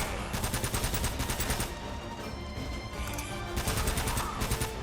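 Sustained bursts of automatic gunfire from a firefight in the video game Uncharted: Drake's Fortune, set at an Axis base, with loud rapid volleys rattling continuously and briefly easing midway before picking up again.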